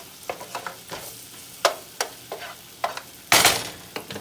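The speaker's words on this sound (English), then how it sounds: "Little piece of butter I'm going to put in here." Butter sizzling in a hot pan while cooking steak and gravy, with a series of sharp stirring scrapes and taps over a low sizzle, ending in a louder burst of frying.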